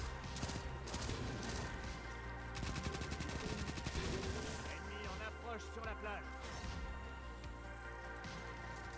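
Rifle fire in Destiny 2 crackles in rapid repeated bursts over continuous game music and effects, fairly quiet overall, with a voice briefly heard.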